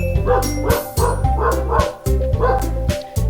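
A pet dog barks in a quick run of close, loud yips and bow-wows indoors, roughly five or six sharp barks over a steady low hum.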